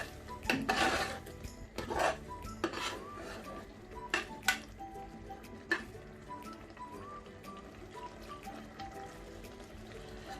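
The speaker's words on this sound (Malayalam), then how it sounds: "ഇങ്ങനെ തക്കാളി ഒന്ന് ഉടയുന്ന വരെ നന്നായി ഒന്ന് ഇളക്കി കൊടുക്കാം" Tomato and masala with small Kanthari chillies stirred in a pan for Kerala beef varattiyathu, with scraping spoon-on-metal knocks and clatters in uneven bursts over a soft sizzle, close by, no talk.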